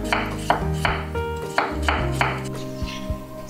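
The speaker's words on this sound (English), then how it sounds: "Then, slice them thinly into rounds." A knife slices two peeled, striped Japanese cucumbers thinly into rounds on a board, giving a steady run of crisp, close chopping taps with no talking.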